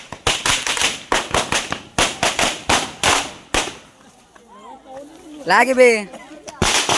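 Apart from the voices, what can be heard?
firecracker bombs exploding at Ganpati immersion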